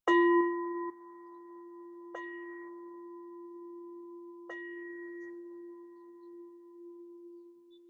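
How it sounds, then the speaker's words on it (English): A meditation bell is struck three times, each strike ringing out in a clear, sustained tone that slowly decays in a quiet room, with no voices. "So now I'll ring the bell."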